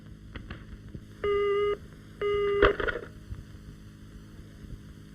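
Telephone call tones sound over a low hum: two steady, fairly loud tone bursts, each about half a second long, separated by a short pause. A brief click-like burst follows, with low background noise throughout.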